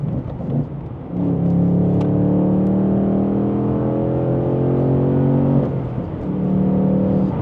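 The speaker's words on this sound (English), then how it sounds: "We'll get a nice little double downshift here." A Ford Mustang Dark Horse engine drones steadily and climbs in pitch, then briefly drops and revs back up as the driver double-downshifts the six-speed manual.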